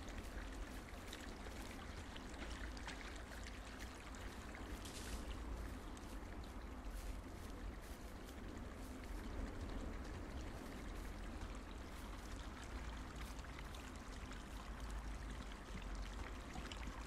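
Steady river stream flowing along a trail in the video game Firewatch, a continuous broadband wash of water that stays even and moderately quiet throughout, with no talk over it.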